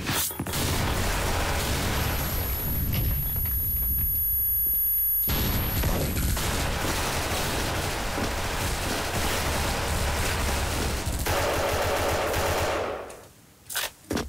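Grenade thrown and bursting amid sustained automatic gunfire in the online shooter Special Force, with an M16A2 in play; dense, loud, continuous battle noise that drops out near the end.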